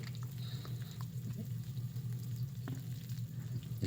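Onions sizzle and fry steadily in a pan in a home kitchen, a dense continuous crackle with occasional stirring clinks and scrapes, no voices.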